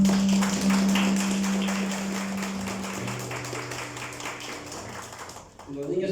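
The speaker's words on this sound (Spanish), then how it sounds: "Dale un aplauso al Señor." A church congregation claps for the Lord during a service, a dense, steady patter of many hands lasting several seconds over a sustained low tone, then thinning and breaking off near the end.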